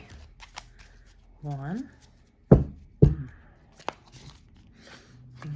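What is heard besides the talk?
shuffling tarot cards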